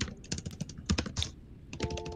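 Rapid clattering keystrokes on a computer keyboard, picked up by an open microphone during a game stream, irregular bursts of clicks with a brief pause in the middle, fairly close and clear.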